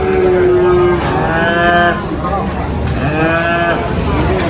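Simmental cattle, maroon-red and Simmental Charolais types, low at a busy livestock market, with several long drawn-out moos overlapping one another and loud, close, background chatter running underneath.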